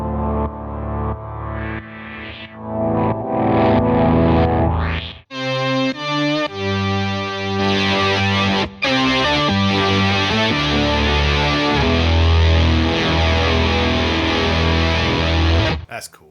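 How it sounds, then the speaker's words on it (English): Synth fuzz guitar effect from an Eventide H90 pedal using hot saws and pitch fuzz, a loud, buzzy, heavily distorted synth-like guitar tone playing sustained notes and chords, a brief cut near the start, no voices over it. "that's synth fuzz. That uses the hot saws and the pitch fuzz"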